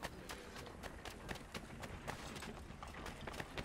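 Horse hooves clip-clop at a quick, steady gait in the video game Assassin's Creed 3, a rapid series of sharp beats over a busy background with no speech.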